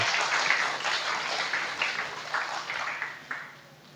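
A church congregation applauds during a sermon, a sustained crowd clapping with scattered sharper hand claps, fading slightly in the final moments.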